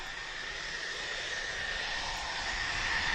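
A military jet rumbles and whines steadily at an air show as it taxis, a constant broad engine roar with a high tonal whine, growing slightly louder over a few seconds.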